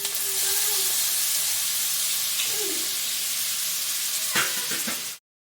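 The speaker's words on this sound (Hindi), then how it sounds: "ये कांदा, तेल गरम हो चुका है। अभी इसमें हम कांदा डाल देंगे" Onion hits hot oil in a kadhai with a loud, steady sizzle and hiss that runs unbroken before cutting off abruptly.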